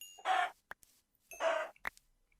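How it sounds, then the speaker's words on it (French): Two short bursts of chicken clucking in a video game, each followed by soft clicks and thumps, with a pause between them; fairly close and clear, no talking. "Ah, les poulets."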